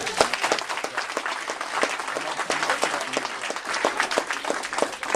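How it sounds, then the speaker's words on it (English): Applause from an award ceremony audience, a dense steady wash of many hands clapping throughout, fairly close and full. "You can clap, yes."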